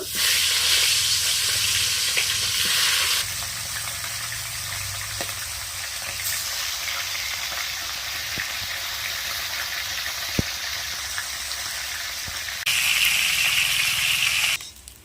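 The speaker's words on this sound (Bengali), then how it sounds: "তেল গরম হয়ে গেছে এবার আমি নুন হলুদ মাখানো মাছগুলো ভেজে নেব" Turmeric-and-salt-rubbed fish frying in hot mustard oil in a wok: a steady, loud close sizzle and hiss with brief surges of spattering at the start and end, and no voices.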